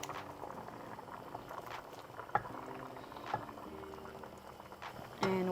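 Bean mixture poured into a pot of simmering charro beans, a steady bubbling boil with soft liquid splashes and a few small clinks, fairly quiet and close, with a louder pouring rush near the end.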